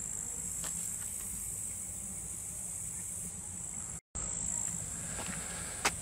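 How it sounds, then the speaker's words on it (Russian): Cicadas buzz in a steady, shrill, unbroken chorus across the countryside around a village, holding level throughout with a brief dropout near the end. "Цикадки."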